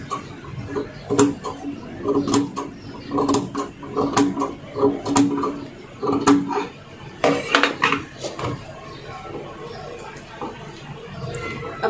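Sewing machine stitching a kameez, giving a steady run of mechanical clicking and whirring in short rhythmic bursts, moderately close, with a faint voice heard at times.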